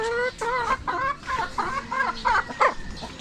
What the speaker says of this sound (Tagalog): Papakain na lang ako ng manok.